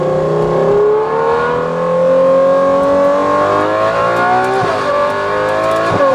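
A Novitec-tuned Ferrari 812 N-Largo V12 revs loudly and close, its tone climbing steadily through one long pull before dipping briefly and surging again, with no talk over it.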